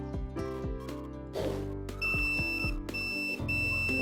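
A multimeter on continuity setting gives short electronic beeps, including a couple of sustained tones near the end, amid clicks and handling noise, checked while troubleshooting a petrol generator's AVR.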